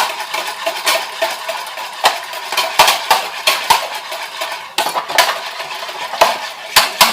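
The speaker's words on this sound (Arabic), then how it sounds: "نضربو مزيان هاد البيض والزيت" Eggs, oil and sugar whisked by hand in a bowl for a layered cake, with a steady scraping swish broken by sharp metallic clinks of the whisk against the bowl's side, close and continuous.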